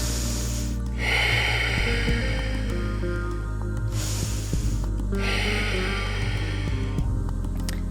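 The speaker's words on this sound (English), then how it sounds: "Coming back to our Ujjayi breath" Slow, audible Ujjayi breathing during a yoga practice, two long throaty rushing breaths close by, each a few seconds long with pauses between, over a low steady hum.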